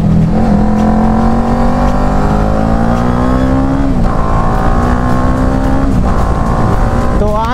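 A KTM Duke 250 motorcycle ridden hard, its engine droning loud and steady with pitch climbing through gears and dropping at each shift, close and continuous.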